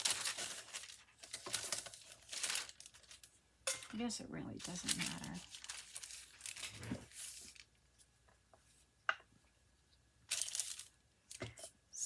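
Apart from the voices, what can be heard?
parchment paper crinkling while crafting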